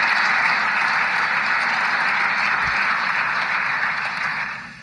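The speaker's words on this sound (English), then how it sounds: "I hope that's not the last bit of applause that I get" Audience applause fills a conference hall at a security gathering, a steady dense wash of clapping that holds evenly for several seconds before fading at the end.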